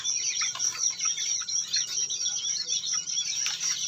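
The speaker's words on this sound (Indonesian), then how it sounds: "Burung cucak gentong, ya, atau opior Jawa." Dense, high-pitched twittering song of a Javan grey-throated white-eye, busy and continuous, with many quick overlapping chirps close by.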